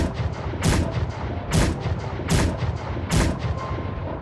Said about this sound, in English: 6 cannon shots can be heard in the distance.